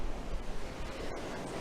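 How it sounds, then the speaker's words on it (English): Ocean waves wash onto the shore at sunset on a beach walk, a soft, continuous rush of surf with steady wind noise against the microphone and no voices. "enjoy this beautiful sunset and these beautiful waves"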